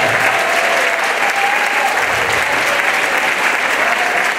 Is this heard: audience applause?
yes